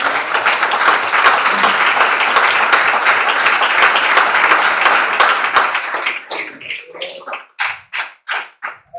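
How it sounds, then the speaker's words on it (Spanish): A church congregation gives a sustained burst of applause during a Sunday morning service, dense and steady for about six seconds before thinning into a few loud, separate, spaced claps near the end. "Denles ofrenda de palmas en esta mañana, hermano."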